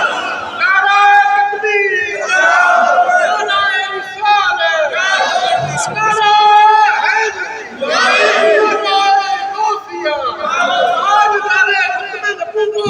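A large crowd at a religious gathering shouts a slogan back in unison, loud massed voices in repeated waves filling the whole stretch.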